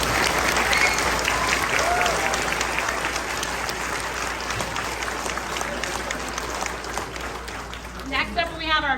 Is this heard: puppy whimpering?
no